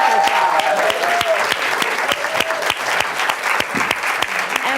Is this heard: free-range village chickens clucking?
no